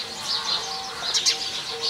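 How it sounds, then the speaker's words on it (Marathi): Birds chirp around a village in Pune district, with faint, high, scattered tweets repeating over a soft outdoor background. "सर्वत्र पक्ष्यांचा किलबिलाट"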